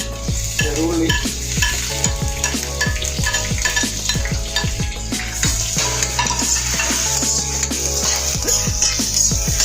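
Chopped shallots and ginger frying in a pan for a Kerala fish curry, under a continuous loud sizzle with dense, rhythmic metal spoon strokes stirring and scraping the pan throughout.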